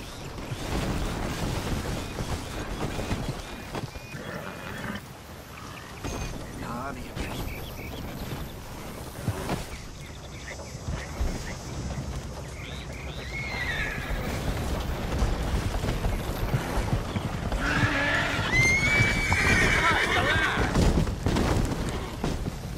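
In the video game Red Dead Redemption 2, several horses in a pile-up whinny and neigh over a busy, steady background with hoof clatter, louder toward the end, and a voice speaks at times.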